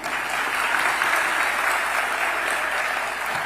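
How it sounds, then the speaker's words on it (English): Audience applause at a university event in Kenya where political leaders share the stage, a dense, steady wash of clapping that holds at full strength from start to finish. "Another round of applause for"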